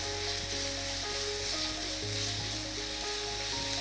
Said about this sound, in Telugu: కొద్దిగా పసుపు ఉప్పు, అల్లం వెల్లుల్లి పేస్ట్ని వేగనిస్తున్నాను నేను